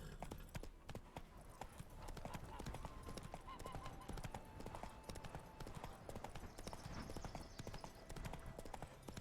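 A horse's hooves clip-clop at a steady trotting rhythm in The Witcher 3, close and continuous throughout, with faint voices in the background.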